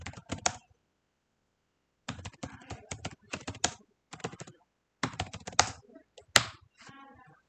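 Typing on a computer keyboard while entering PyCharm into a search bar: close, crisp bursts of rapid key taps separated by short silent gaps, with no voice over them.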